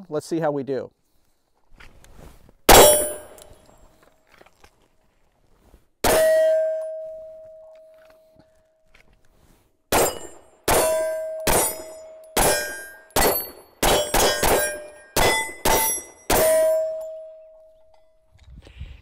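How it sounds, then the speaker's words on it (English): Shots from a Sig P320 X5 pistol fitted with a Sig Romeo1 Pro red dot sight, a loud sharp crack followed by a steel-target clang ringing out, first as single shots and then as a rapid string, with a brief spoken remark near the start. "All right, we're going to keep shooting."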